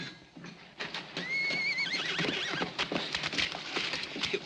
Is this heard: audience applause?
no